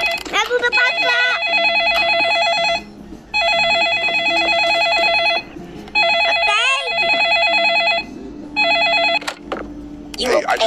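A telephone rings in repeated bursts of loud, bright bell trills with short gaps between them, while people talk over it in the background.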